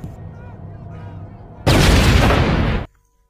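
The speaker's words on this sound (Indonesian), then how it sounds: "Namun mereka malah yang terbunuh karena Alejandro melemparkan mereka dengan granat" A grenade blast from the film Sicario 2 erupts as a sudden, loud, roaring burst lasting about a second, following a quieter, rumbling lead-in, then cutting off into near silence.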